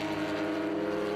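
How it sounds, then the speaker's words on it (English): Vintage race cars, a Datsun and a Lotus, run under 1972 rules in a Mid-Ohio feature race, giving a steady, loud engine drone that holds without a break from start to end. "Datsun losing ground, no question about it, to the Lotus of Jim Gewinner."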